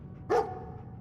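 A single short dog bark from the companion dog in Fallout 4, loud and close, rising over a steady low game ambience with no talk.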